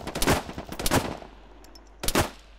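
Gunfire in the ArmA 3 military video game: rapid automatic bursts of shots, two dense volleys followed after a pause by a third short burst, loud and close with no talking.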